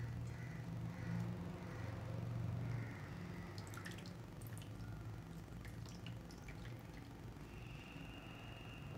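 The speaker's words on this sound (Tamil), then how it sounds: "அதிகமாக இருக்கக்கூடிய தண்ணி பிழிஞ்சு எடுத்துடலாம்." Water trickling and dripping as soaked bread is squeezed out by hand in a kitchen, a soft, steady wet patter with faint crow caws in the background.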